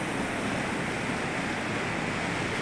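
Kaveri river water flowing at Bannur, a loud steady rushing roar with wind buffeting the microphone, continuous and unbroken.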